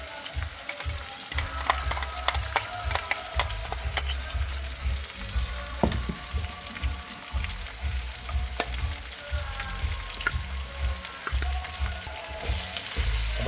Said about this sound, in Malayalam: എന്നിട്ട് ഇതെല്ലാം നല്ലതുപോലെ ഒന്ന് മൂപ്പിച്ചെടുക്കാം.